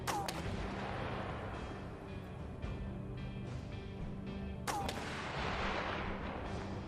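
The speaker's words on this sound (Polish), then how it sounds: "Główna aleja jest pod ostrzałem snajpera" Two sharp, loud sniper shots crack out about four seconds apart, each with a rumbling echo, in the war survival game This War of Mine.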